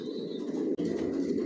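Racer pigeons cooing in a loft, a low steady throaty warble that runs almost unbroken, close and moderately quiet, with a brief gap midway.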